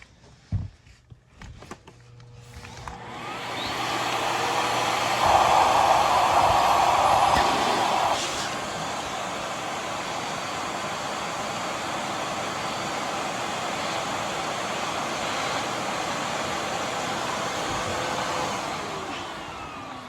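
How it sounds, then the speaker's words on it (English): Speed dial vacuum cleaners running on max speed give a steady airy whir, louder and brighter for a few seconds early on, then settling into a quieter continuous hum after some brief knocks at the start. "I'm gonna set all of these speed dial vacuums on max."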